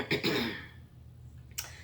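Close, fairly loud coughing: a pair of harsh coughs with some throat clearing early on, then one more short cough burst near the end, with no talk over it.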